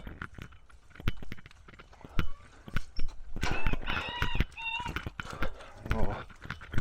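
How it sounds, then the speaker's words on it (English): Goats being let out of a pen on a farm, their hooves clattering in scattered sharp knocks on a hard floor, mixed with bleats and rustling, close by, as a person talks. "I'll just move this panel, let the goats out."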